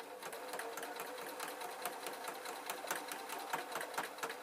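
An electric sewing machine runs steadily while stitching a suit pocket with piping, its rapid needle chatter close and continuous with slight dips in speed, no voices over it.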